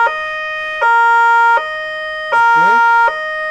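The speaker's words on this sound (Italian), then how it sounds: "la sirena. Faccia sentire." A loud two-tone Italian police car siren alternates between a lower and a higher pitch in a steady rhythm, close by, with a brief voice under one tone.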